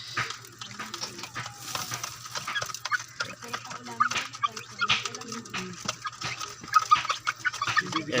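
Young chicks clucking and peeping while pecking at stag developer feed, busy overlapping chirps and soft pecking ticks close by.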